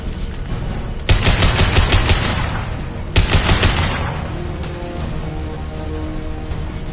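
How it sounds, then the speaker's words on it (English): Two loud sniper rifle shots in Mass Effect, each a sharp crack followed by a long, fading rumbling tail, spaced about two seconds apart, with a lower ambient hum continuing afterward. "Sniper rifle neutralization."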